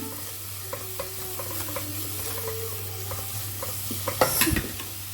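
Garam masala and turmeric powder sautéing in a pan, a soft steady sizzle with light stirring scrapes and a low hum underneath, a brief louder clatter near the end, no talking.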